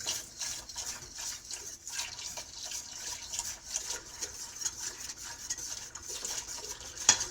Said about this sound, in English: I'm pouring the milk in.